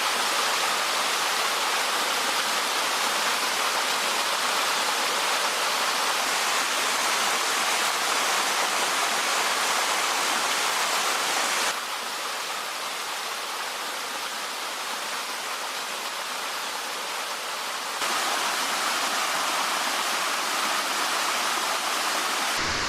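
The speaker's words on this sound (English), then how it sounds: "It's a big waterfall, all right? It goes way up." Jones Falls, a tall waterfall along the Appalachian Trail, gives a constant broadband roar of falling water. It is steady and fairly loud throughout, with a slight level change partway, and no voices.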